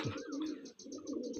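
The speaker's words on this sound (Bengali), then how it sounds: "একটা পায়রা দেখুন জোড়া সত্যি খুক্ষার পায়রা খুক্ষার অসাধারণ পায়রা" A pair of Andra pigeons kept by a hobbyist coo softly and close by, two low, rolling coos separated by a brief pause.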